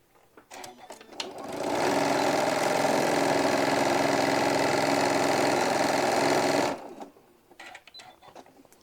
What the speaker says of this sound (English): And sewing your pleat.